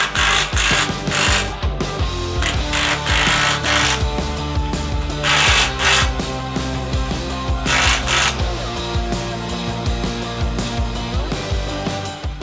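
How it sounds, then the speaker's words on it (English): A ratchet with a 17mm socket tightens bumper bolts on a 2022 Nissan Frontier, rapid clicking strokes close up with louder bursts of cranking every couple of seconds and occasional metallic clatter. "17mm socket to tighten it up."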